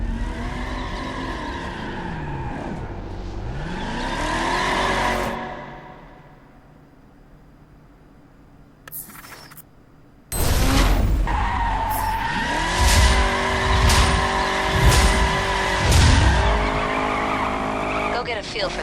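Dodge Challenger driven hard in The Crew, engine revving with repeated tire squeals and skids; a brief quiet gap midway, then louder sustained engine roar and screeching, with someone talking over it.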